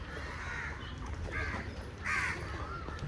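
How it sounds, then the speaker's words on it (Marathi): Crows cawing outdoors on a morning, three hoarse calls spaced apart over a steady background hum, the last one loudest and closest. "पाखराचा आवाज वगैरे"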